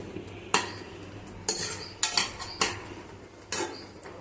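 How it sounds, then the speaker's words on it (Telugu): Gongura leaves get stirred in a pan with several sharp, close metal scrapes and clanks of a spoon against the pan, spaced irregularly over a few seconds, with no speech. "గోంగూరను ప్యాన్లో వేసాక అంతా ఒకసారి బాగా కలియబెట్టి"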